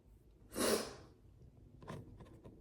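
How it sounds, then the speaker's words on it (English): A single sharp sneeze bursts out close to the mic indoors, followed by a quieter breathy exhale or sniff a moment later. "sorry, I sneezed."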